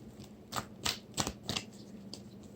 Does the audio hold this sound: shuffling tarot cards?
yes